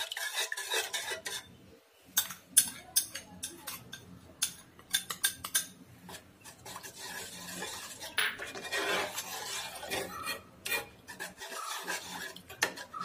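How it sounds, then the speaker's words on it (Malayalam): Cornflour stirred into a warm mixture for neutral piping gel, a spoon scraping and clinking against the pan in an uneven, busy rhythm, close and moderately loud with no talking. "ഒരു നേരിയ ചൂടോടെ തന്നെ നമ്മൾ കോൺഫ്ലോർ ഇട്ടിട്ട് ഒന്ന് നന്നായിട്ട് ഇളക്കി കൊടുക്കാം"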